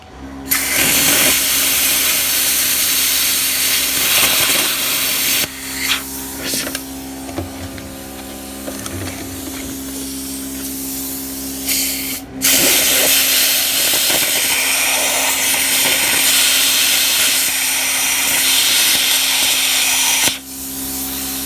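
A plasma cutter cuts a slot in a thin, greasy, lubed metal gear, giving a loud, harsh, steady hiss that stops for a few seconds midway and then starts again.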